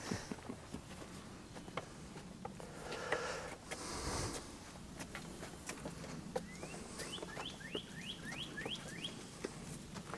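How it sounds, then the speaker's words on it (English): Northern cardinal singing outdoors in spring woods: a run of repeated rising whistled notes in a quick series toward the end, moderately distant, over rustling leaves, footsteps and other faint bird calls. "Hear that cardinal?"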